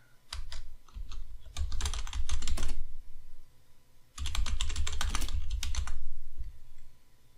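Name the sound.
typing on a computer keyboard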